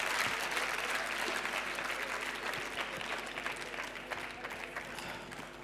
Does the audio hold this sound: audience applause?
yes